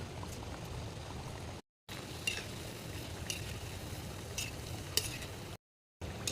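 Biscuits fry in hot oil in a wok, giving a soft, steady bubbling sizzle at low level, with faint clinks and two brief gaps of silence.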